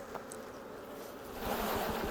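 Honeybees buzzing around a swarm and hive feeder, a soft continuous hum of many insects close by, rising slightly toward the end, no voices.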